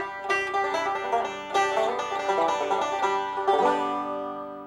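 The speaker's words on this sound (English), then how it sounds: "Bluegrass banjo." Bluegrass banjo played with three finger picks in fast Scruggs-style right-hand rolls: bright, rapid, ringing plucked notes in a steady stream of arpeggiated patterns, close and clear, with no talking.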